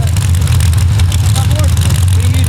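Two 1965 Chevrolet drag cars race side by side at Gore Springs, one running an 872 Warren Morrison racing engine with a four-stage nitrous system, producing a loud, steady, deep engine roar that fills the whole stretch.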